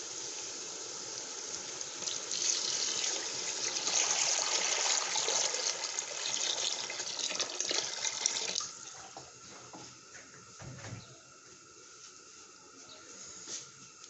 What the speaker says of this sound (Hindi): तो अब इसमें करेंगे हम पानी को शामिल।